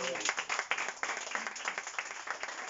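A church congregation applauds during a sermon, clapping in a quick, uneven patter of many hands at moderate loudness, with voices mixed in.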